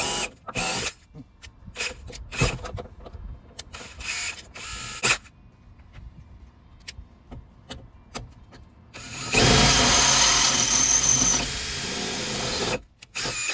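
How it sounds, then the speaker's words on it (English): A screw gun with a drill bit runs in repeated short bursts, grinding through old metal rivets on a Ford Ranger door handle, then one long sustained whining run before stopping. "I used a screw gun and a drill bit to break apart the old rivets"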